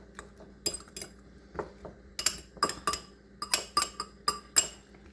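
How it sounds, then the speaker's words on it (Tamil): A spoon stirs a capsicum mixture in a bowl, giving a run of light, bright clinks and scrapes in uneven bursts, sparse at first, then quicker and denser toward the end, close and quiet. "ஜஸ்ட் நல்லா ஒரு மிக்ஸ் கொடுத்துட்றேன்"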